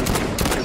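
Rapid burst of video-game gunfire in a one-shot-kill shooter match, several loud close shots crackling back to back in quick succession, no voices over it.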